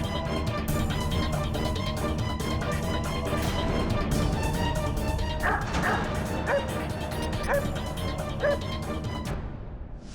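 A dog barks and yips repeatedly under a busy, dense backdrop of music or background sound, with a few sharper yelps standing out near the middle before the scene cuts off abruptly at the end.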